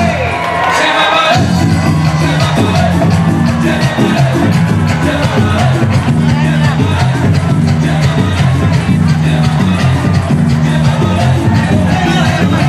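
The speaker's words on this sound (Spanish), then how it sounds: "Un fuerte aplauso para ella." A carnival crowd at the Corozal carnival applauds and cheers for a performer, loud dense clapping with whoops and shouts over music, continuous throughout.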